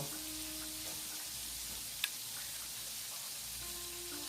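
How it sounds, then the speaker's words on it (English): Chicken fries in a pan with a soft, even crackle and sizzle that goes on without a break. A single sharp tick cuts in partway through, and no voices are heard. "I'm going to let that fry for a little bit."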